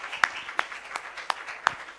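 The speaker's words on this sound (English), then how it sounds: "please give applause to Prof. Ali Gufron." Sparse, evenly spaced claps from a small symposium audience thanking a professor, a few distinct hand claps over a quiet room, close and moderately loud.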